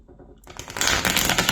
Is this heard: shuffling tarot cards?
yes